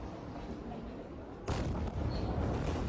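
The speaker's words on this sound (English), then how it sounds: "an explosion ripped through Beirut's port" A deep boom from the Beirut port explosion hits halfway through, abruptly raising a steady roar of broadband rumble that continues to the end over faint background noise.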